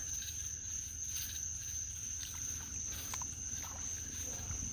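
Insects chirp steadily in a swamp, a continuous high-pitched buzzing drone with scattered faint clicks, moderately loud and unbroken throughout, with no talking over it.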